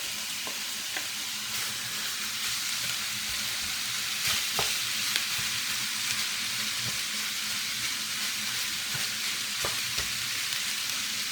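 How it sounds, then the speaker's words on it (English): A meat and vegetable mix for baked spaghetti sizzles steadily in a preheated pan, a loud, even hiss with a few faint clicks, no one speaking. "We're going to go ahead and put our meat and veggie mix in."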